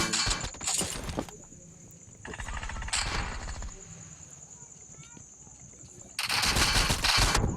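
Bursts of automatic gunfire from the mobile battle game BGMI, in a team deathmatch gun-game round, rattling in several loud volleys separated by quieter stretches.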